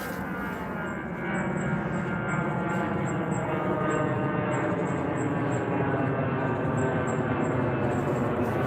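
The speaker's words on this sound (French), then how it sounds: "T'es repéré par avion, là." An airplane passes overhead near Orly airport, a loud, steady broadband roar that swells slightly after the first second and then holds constant, with no voices.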